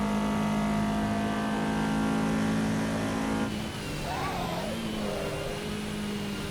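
Toyota AE86 engine in Assetto Corsa EVO, revving loud and steady with a buzzy tone that dips briefly, then climbs and falls again as the throttle changes.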